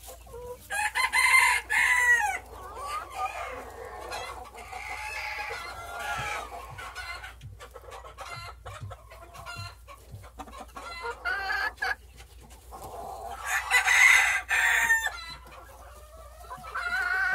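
Silver partridge-colored Silkie chickens, a rooster and hens, cluck steadily in a pen. The rooster gives a loud crow at the start and another near the end.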